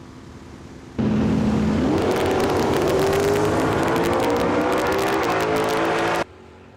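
Drag racing cars, including a 1965 Chevelle, launching down the strip at Tucson Dragway, a sudden loud engine roar that climbs steadily in pitch as the cars accelerate away, holding for about five seconds before cutting off abruptly.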